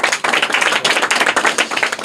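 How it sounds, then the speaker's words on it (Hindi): Audience applause for a quiz winner named Manisha Gupta at a Bihar school quiz: dense, steady clapping from a crowd close by, alone without talk, filling the whole moment with only a brief dip near the start. "मनीषा गुप्ता के लिए भी जोरदार तालियां"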